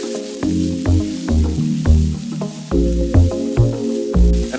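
Garlic sizzles in a hot pan for Singapore noodles, a steady close hiss running under rhythmic tonal background music throughout.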